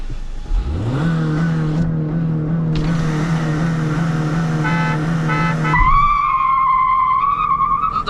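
A Hyundai Verna and a stage 1 Honda City launch in a drag race, with one engine holding a loud steady high rev amid squealing wheel spin, then a shift to a higher whining pitch.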